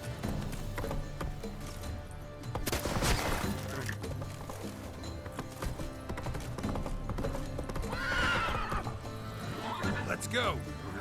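A horse in The Witcher 3 video game gallops with steady clip-clop hoofbeats and gives a loud whinny near the end. Someone talks over the sound.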